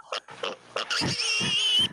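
A pig grunts and snorts close by in short bursts, then gives a longer, higher squealing grunt at the end. There is no talk.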